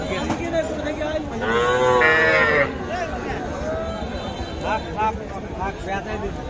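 Young bulls and calves at a livestock market in Kaharol, with one long, loud nearby moo and a few shorter calls amid the constant hubbub of people talking.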